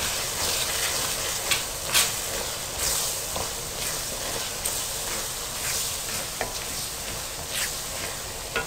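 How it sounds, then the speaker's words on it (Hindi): Masala spices, including turmeric and mango powder, stirred into vegetables frying in a pan for a ridged gourd (tori) curry. A steady close sizzle runs throughout, broken by scraping stir strokes. "ये सब मसाले अब मैं इसमें डाल रही हूँ। अच्छी तरह से मिक्स करें।"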